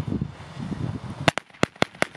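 Panik firecrackers from Action going off outdoors, a string of six sharp, loud bangs in quick irregular succession, preceded by people talking and murmuring.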